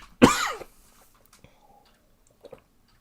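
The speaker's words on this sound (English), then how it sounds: "I seem to have a bit of a dry cough" A single short, harsh dry cough from a person during a livestream, loud and close, followed by near silence with a few faint ticks and small mouth noises.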